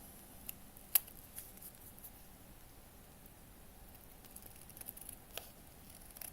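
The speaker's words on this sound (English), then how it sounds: "And then we are going to cut them out." Scissors snip around printed paper pictures being cut out for a miniature room box, producing a quiet, faint patter of small clicks and crisp snips with one sharper snap near the start, close by and with nobody talking.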